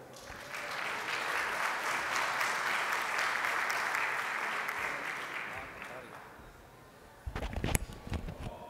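A crowd at a financial executives' evening event gives a speaker a long wash of steady applause that gradually fades, followed by a few loud, close thumps and handling knocks near the end.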